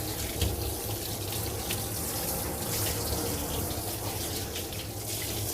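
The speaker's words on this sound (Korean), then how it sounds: "강아지 몸 쪽에 샤워기를 대고 천천히 강아지가 놀라지 않게 물이 흐르듯이 적셔주세요." At a self-service dog wash, a handheld shower sprays steadily over a dog's body. The hiss and patter of the water are close and continuous, with no voices.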